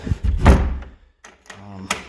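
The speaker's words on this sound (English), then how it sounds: "You just open it like that, slide the door open." A door fitted with a Flip Lok lock is slid open: a short rolling rumble and thunk, then a brief pause and a second scraping slide ending in a light knock, all close and clear.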